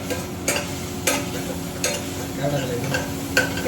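Ginger, garlic and chili paste sizzling in a hot pan while being stirred, a steady close frying crackle broken by regular scrapes and clinks of the spoon against the pan.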